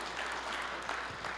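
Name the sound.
church congregation applause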